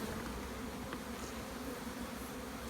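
Honeybees fill a beekeeper's nuc box with a dense, continuous buzzing drone, steady and close with occasional brief flyby whines, and no voices.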